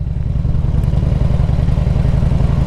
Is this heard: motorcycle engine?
yes